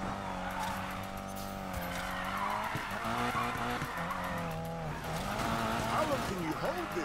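Subaru BRZ sliding through a long drift in the Need For Speed Payback racing game, engine humming and tires skidding steadily, with voices talking over the continuous squeal.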